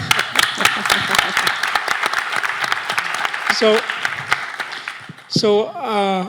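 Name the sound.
audience applause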